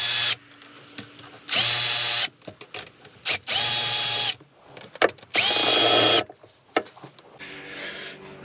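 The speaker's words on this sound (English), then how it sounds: "now we're going to remove these 4 12mm bolts that are holding this whole sub bracket in place." A power tool whirs in three sustained bursts while backing out four 12mm bolts from a supercharger tensioner sub bracket on a Kawasaki jet ski, loud and close, separated by clinks and handling noises.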